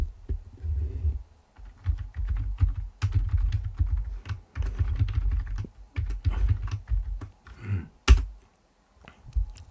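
Rapid, irregular keystrokes on a computer keyboard while entering a chart legend label in an Excel 2021 spreadsheet. The typing is close and steady, with brief pauses and one sharper tap near the end. No one speaks.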